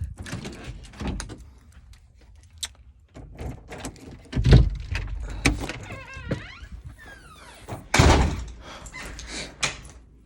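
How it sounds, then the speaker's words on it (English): A car door is unlocked and opened with a sequence of clunks, a mechanical whir and a heavy thud partway through, sounding close amid scattered handling noises. "Hold on, I gotta fucking unlock this door."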